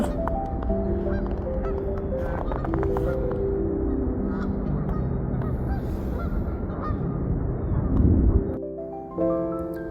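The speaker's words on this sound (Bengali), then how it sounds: "প্রচুর রাজহাঁস খুবই সুন্দর দৃশ্য" A large flock of geese honking continuously in snowy New York, many overlapping calls forming a loud, busy chorus that thins out near the end.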